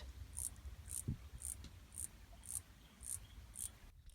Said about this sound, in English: Just listen back to our minor cicada sound.